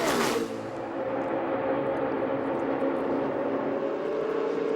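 NASCAR stock cars in Daytona practice run at sustained high RPM; a close car sweeps past with a falling pitch, and its engine roar then fades into a steady distant drone.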